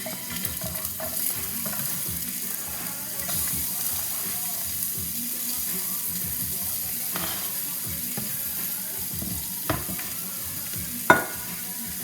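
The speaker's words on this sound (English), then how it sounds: "Time to throw in your veggies." Home-grown garden vegetables go into a hot pan, producing a continuous close sizzle with stirring scrapes and clatter and a sharp utensil knock near the end, with no one speaking.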